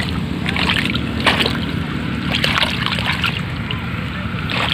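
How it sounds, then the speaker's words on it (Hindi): Feet and sandals are rinsed in water out in rain-soaked village fields in India, giving repeated close splashes and sloshing over steady wind and outdoor ambience, with a voice heard at times. "अब हम भी यहाँ पे चप्पल साफ करेंगे, पैर साफ करेंगे"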